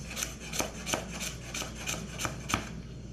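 A knife cuts carrot julienne into brunoise on a wooden board, giving about eight evenly spaced chops with a slight scraping edge, close and clear, with no voices.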